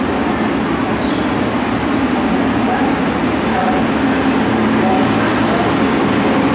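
A Class 158 diesel multiple unit pulls out of Shrewsbury station, its steady broadband engine drone and rail rumble holding at a constant level throughout, with no clear voices.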